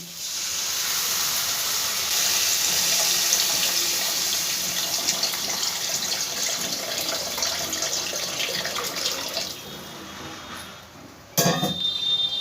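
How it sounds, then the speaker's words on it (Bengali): Water poured into a pot of mung dal makes a steady, close rushing splash that runs continuously for several seconds, easing slightly before a short clatter near the end. "এবার এর মধ্যে আমি পরিমাণ মতন জল দিয়ে দিচ্ছি।"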